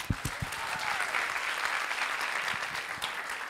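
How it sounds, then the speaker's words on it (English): Sustained crowd applause at an MBA talent show awards segment, many hands clapping evenly throughout, with a few sharper claps near the start. "Again, one big applause for our Leadership Awards winners."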